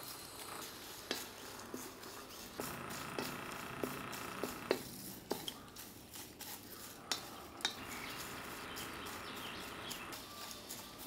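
Whole biryani spices dry-roasting in a pan, heard as quiet, close stirring with light scraping and scattered small clinks and taps from the utensil against the pan, and no talking.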